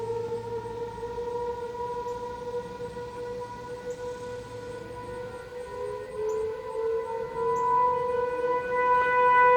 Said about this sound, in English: These sirens are coming from the dog park we go to.